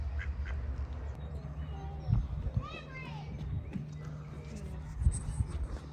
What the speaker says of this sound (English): Be nice to the duck, Amelia.